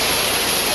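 Fast-rushing water roars as a steady, loud broadband wash across the whole short moment, dense and continuous with no breaks or voices.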